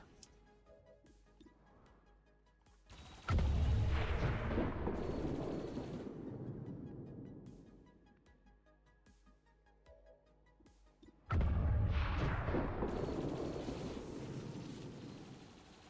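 Two heavy explosions in XCOM with the Long War of the Chosen mod burst loudly about eight seconds apart, each a deep booming blast that rumbles and slowly fades into quiet game ambience.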